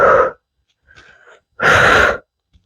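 Forceful exhales during a strength workout at home: two sharp, breathy bursts of air close to the microphone, with a fainter breath between them, each ending abruptly in silence.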